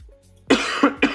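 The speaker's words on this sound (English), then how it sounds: "I'm so sorry about this cough." A person coughs three times in quick succession, loud and close, after a brief quiet throaty sound.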